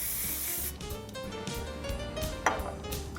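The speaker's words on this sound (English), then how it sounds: "grab your hairspray" Hairspray hisses steadily from an aerosol can onto a woman's hair while styling a pinup hairdo, a close, continuous spray with slight rubbing and a faint click near the end.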